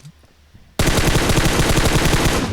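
Rapid automatic gunfire in the mobile game PUBG Mobile bursts in after a quiet start and continues as a loud, dense, rattling stream of shots to the end.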